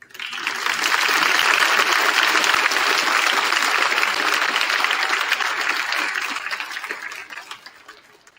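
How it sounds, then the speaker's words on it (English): Audience applause fills a Veteran's Day assembly at Malden High School, a dense, steady crowd clapping that swells quickly, holds loud for several seconds, then tapers off near the end. "Let's give another big round of applause."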